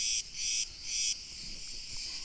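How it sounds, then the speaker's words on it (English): A cicada chirps loudly right beside the listener, its shrill, buzzing trill coming in pulsing bursts with brief dips between them, and no one speaks. "They come through people, cicada bugs, as this one is like right here chirping at my ear"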